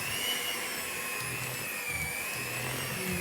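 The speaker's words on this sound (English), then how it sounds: "And then I'm going to whiz it with my electric whisk." An electric hand whisk whizzes chocolate buttercream in a steady, continuous motor whine with faint rattling against the bowl, close and unbroken throughout.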